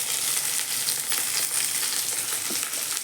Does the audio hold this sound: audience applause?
no